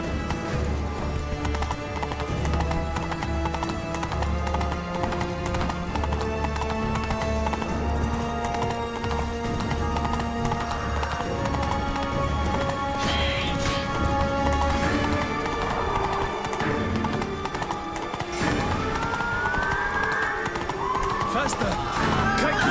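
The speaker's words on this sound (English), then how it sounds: "Run, Roach." Hooves of the horse Roach galloping in The Witcher 3 video game, a quick continuous clip-clop running under game music, with an occasional neigh and voices speaking over it.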